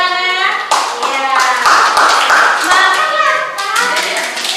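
Students in a classroom clap their hands together in a loud, close, sustained round, with children's voices calling out over the applause.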